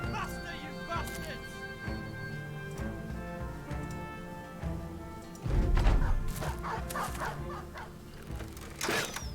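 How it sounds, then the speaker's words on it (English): War dogs in the Battle Brothers video game bark and yip amid crashes and thwacks of combat, several sharp barks scattered through the battle noise. "They have a surprising amount of war dogs."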